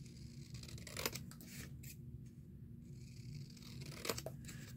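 Scissors snip through paper ephemera for junk journal crafting, giving a few crisp close cuts around the one- and four-second marks over a quiet, steady room hiss with no talking.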